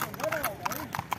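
Horses walking at a steady clip-clop on a mountain trail worked by muleteers, with several hoof strikes spaced through the moment and voices talking over them.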